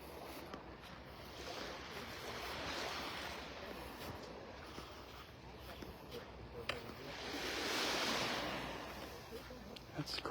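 Morning surf rolls in at Vanderbilt Beach in North Naples, Florida, a steady broadband wash with two broader swells of breaking waves, the second peaking near the end.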